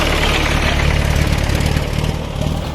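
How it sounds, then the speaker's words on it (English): A tractor drives along a beach near La Manga, its engine a steady loud rumbling drone close by that fades slightly as it passes, with no talk. "Oh look, tractors coming along just randomly across."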